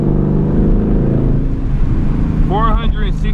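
Loud, steady low engine drone from a 2020 Ford Mustang 5.0 with a muffler delete, heard from inside while driving at night, with a voice cutting in near the end.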